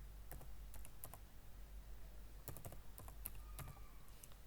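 Fingers type on a computer keyboard while working in an Excel spreadsheet: quick, close clicking keystrokes in short irregular bursts with brief pauses, over a steady low hum.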